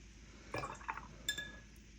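Water added while mixing watercolor paint, with a brief splash and light glassy clinks of a brush against a water jar, short and close against quiet.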